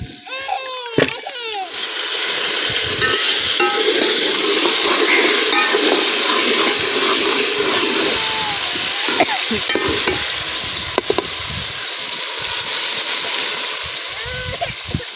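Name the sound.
rice frying and being stirred in a pot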